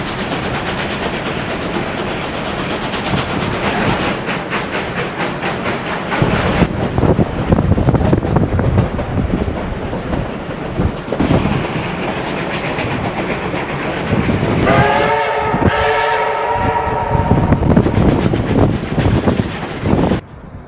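Durango–Silverton narrow-gauge train rolling on rails in the Colorado high country, loud rhythmic clickety-clack and rumble with wind buffeting the microphone, and a drawn-out whistle blast near the end.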